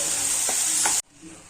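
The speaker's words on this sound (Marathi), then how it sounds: "चला मसाला मस्त परतून घेऊ आता." Masala for a stuffed bitter gourd dish is stir-fried in hot oil, a loud close sizzle with two quick scraping stirs before the sound cuts off abruptly to near silence.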